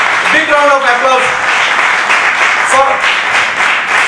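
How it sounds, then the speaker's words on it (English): Applause from a crowd at a medical college batch reunion honoring students, a broad wash of clapping running throughout with a voice speaking over it in short bursts. "A big round of applause"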